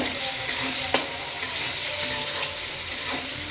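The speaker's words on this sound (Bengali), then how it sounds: "এভাবে নেড়ে নেবে। নেড়ে পেঁয়াজগুলো লাল হচ্ছে না, দেখতে থাকো।" Onions frying in hot oil and being stirred, with a dense continuous sizzle and scraping strokes of a spatula against the pan at irregular intervals, close up with no voices.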